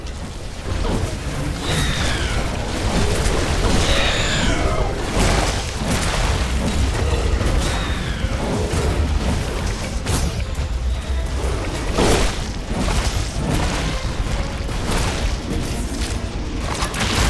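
Buildings explode in The Riftbreaker, a base-building game under attack: dense, loud booms and crashes with mechanical clatter and whooshing sweeps roll on continuously, with sharper blasts standing out now and then.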